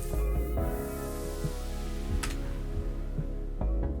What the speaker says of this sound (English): Let me play my favorite song from the Ghost Runner soundtrack.